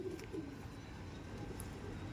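Madrasi pigeons coo softly in a steady low murmur, with occasional faint chirps over a constant background hum and no talking.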